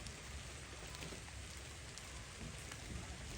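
Steady rain falls in a continuous, even hiss of drops on surfaces, fairly close and unbroken for the whole stretch, with no voices.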